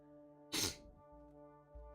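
A single sharp sneeze bursts out close to the mic over a steady low electrical hum, then the hum continues alone.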